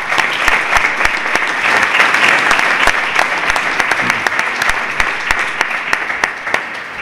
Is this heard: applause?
yes